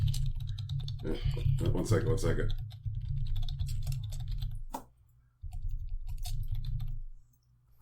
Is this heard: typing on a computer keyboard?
yes